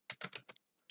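Quick keystrokes type code on a computer keyboard, a close, quiet burst of four or five clicks followed by a pause and one final key press.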